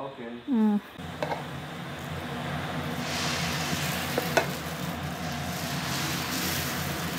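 Green gram dosa batter sizzles steadily on a hot pan, a continuous close frying hiss after a brief voice at the start, with a couple of faint clinks of a utensil.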